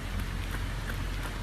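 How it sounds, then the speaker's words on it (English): Rain falling outside on a 44-degree day, a steady dense hiss of drops with no clear individual patter, fairly loud and uniform throughout, no talking. "It's 44 degrees and it's nice and rainy outside."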